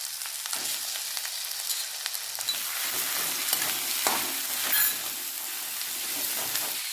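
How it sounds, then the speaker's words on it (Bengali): Chicken paste fries with ground turmeric, chili powder and sautéed ginger-garlic in a pan, producing a continuous hissing sizzle with scattered scraping stirs and small pops, steady and fairly close. "এবারে চিকেনের পেস্টটা দিয়ে দিচ্ছি"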